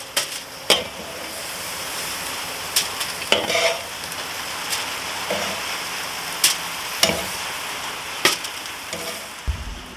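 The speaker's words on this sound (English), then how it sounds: "Gonna go ahead and pull them off and grill the burger." A burger sizzles on a grill with a steady frying hiss throughout, punctuated by sharp metallic clinks and scrapes of a spatula at intervals, close and without talk.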